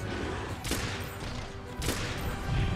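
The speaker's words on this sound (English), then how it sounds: "the pierce, actually, because it fires faster, I think this should be our regular go-to for, for dealing some damage here" Heavy bowgun firing pierce ammo in Monster Hunter World, two sharp broadband shots about a second apart over a steady bed of game ambience and music.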